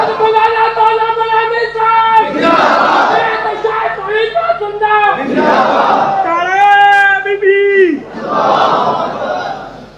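A crowd at a religious gathering loudly chants slogans in response to a lead voice, the call and the massed replies alternating several times close by.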